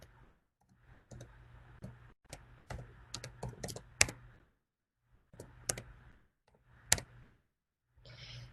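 Computer keyboard typing and mouse clicks at a lab information system portal, a close, quiet series of irregular taps and sharp clicks in short flurries with brief silent pauses, no speech.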